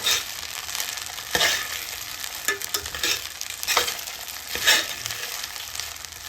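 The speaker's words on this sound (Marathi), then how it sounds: "असं व्यवस्थित मिक्स करून घ्यायचं" Sabudana khichdi stirred in a pan, with scraping spoon strokes recurring every second or so over a constant close sizzle.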